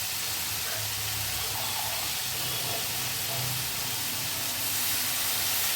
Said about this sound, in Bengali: এবারে জল দিয়ে এটাকে প্রথমে আমি সেদ্ধ হতে দেবো কিছুক্ষণ।